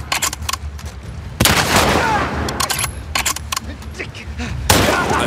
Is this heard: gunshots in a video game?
yes